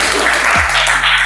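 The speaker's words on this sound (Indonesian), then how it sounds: "Oke, berikan tepuk tangan untuk kelompok 1." Participants in a city training session applaud group 1, a short burst of clapping in the room lasting about a second, fairly loud and close.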